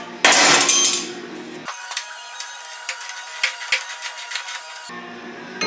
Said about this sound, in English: I'm going to tighten this bolt for the swing arm before I weld it into place